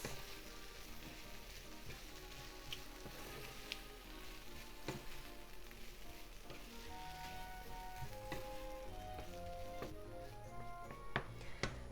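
Lotus root and bacon sizzle in a hot stir-fry pan with black pepper, a steady frying crackle running throughout with occasional sharper pops and faint stirring scrapes, with no voices.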